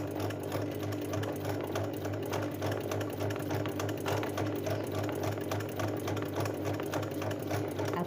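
Sewing machine running a straight stitch, a fast, even, close mechanical whirr and patter that continues steadily on its own.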